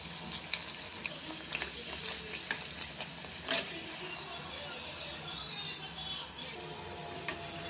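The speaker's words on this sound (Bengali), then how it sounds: "এমনি করে সব ভেজে নেব আমি।" Kachuri spiced with hing and ginger fry in hot oil with a steady, close sizzle, broken by occasional scraping and clinking as the pieces are stirred and turned.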